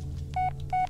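In the video game Blair Witch, a phone plays its voice message notification as two short, clean electronic tones, each held briefly with a gap between, over a low hum.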